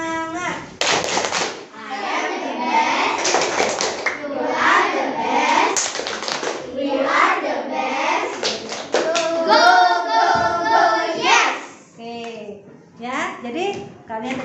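Children in a classroom do a rhythmic spirit clap, clapping in patterned bursts while voices chant and call out along with it, loud and close throughout.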